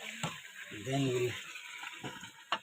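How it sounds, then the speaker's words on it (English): Chicken pieces frying in a pot over an outdoor fire in the mountains, a soft sizzle under occasional scraping and clinking of a spoon stirring against the pot, faint and close, with brief voices in between. "while frying, we have to keep stirring it so that every piece of the chicken gets fried well"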